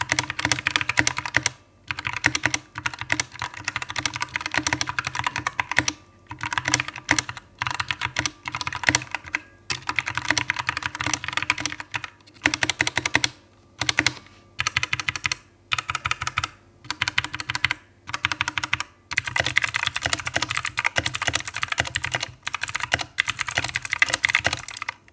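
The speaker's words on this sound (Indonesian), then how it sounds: "Itu mechanical keyboard switch. Dimana yang brown ini dia lebih tactile bahasanya." Typing on a mechanical keyboard fitted with brown tactile switches, a steady near run of crisp keystrokes in bursts with short pauses, no voices.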